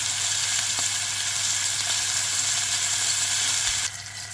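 Butter sizzling in a hot pan over the cooking juices: a loud, steady hiss of frying that continues unbroken, then drops noticeably quieter near the end.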